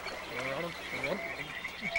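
A frog croaks in a 1997 animated film, a run of rhythmic, nasal, throaty calls that could be a voice imitating a frog, close and clear over a soft background.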